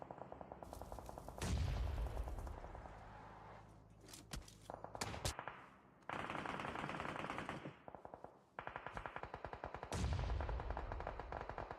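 Rapid automatic gunfire bursts and grenade blasts in the mobile battle royale game PUBG Mobile, played at a competitive esports match, with dense rattling volleys and heavy thumps, loud and continuous.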